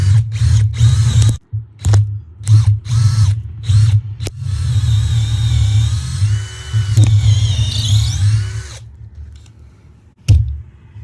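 A power drill drives anchors to fix gate hardware into a post, with loud short bursts of whirring and stops at first, then a longer run that winds down.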